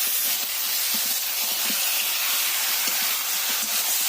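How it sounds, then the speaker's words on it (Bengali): Marinated chicken hits frying onion and tomato in a pan for chicken biryani, producing a loud, continuous sizzling hiss with small pops and bubbling ticks underneath, close up. "পেঁয়াজ আর টমেটো প্রায় ভাজা ভাজা হয়ে গেছে এতে ম্যারিনেট করে রাখা চিকেনটা দিয়ে দিতে হবে"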